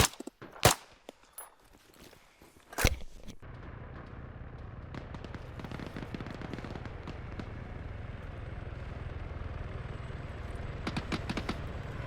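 Gunfire in the military shooter ARMA 3 with RHS mod: a few sharp distant shots early on, then a sustained low rumble with scattered crackling reports near the end.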